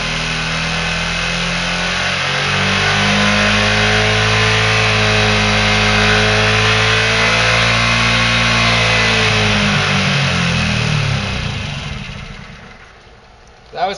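A hydrogen-powered scooter engine revs up on the throttle, holding a loud, steady drone with rising and falling pitch for several seconds, then drops off and winds down near the end.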